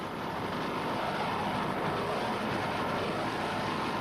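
Racing powerboats from the 1989 season run hard on the water, producing a steady, dense engine roar mixed with wind and spray noise throughout, with no pause.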